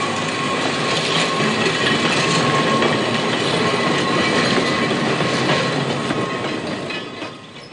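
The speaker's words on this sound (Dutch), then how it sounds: "De motorwagen die hier onder het viaduct doorrijdt, zullen we weldra hoog boven ons zien verschijnen." A 1950 tram motor car passes under a viaduct in the hills near Nijmegen, a steady, loud rolling rumble with rail clatter that holds throughout and fades slightly at the end.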